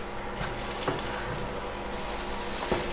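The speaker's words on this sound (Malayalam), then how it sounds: "ഇനി ഇതൊന്ന് മിക്സ് ചെയ്തെടുക്കാം." Liver pepper fry sizzling in a pan on the flame as it is stirred, a continuous hiss with a couple of faint scraping knocks from the spoon.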